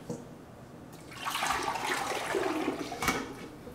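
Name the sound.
hair oil poured into filling machine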